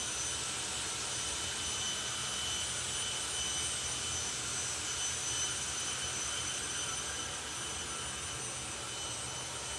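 A jet-powered drag racing car at a summer drag race event, a continuous loud roaring whine with steady hiss across the whole span, no voices.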